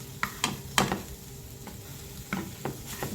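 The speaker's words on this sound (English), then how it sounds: "So now I'm continuing to saute." Salmon sautéing in a pan, a soft sizzle beneath several clinking stirs and scrapes of a utensil against the pan, fairly quiet and close.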